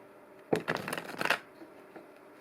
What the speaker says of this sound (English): So one more shuffle and then I'll go ahead and lay it out.